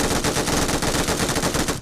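MG3 machine gun fire in the BGMI mobile battle royale game, a dense, continuous rapid burst lasting almost two seconds at steady loudness before cutting off abruptly.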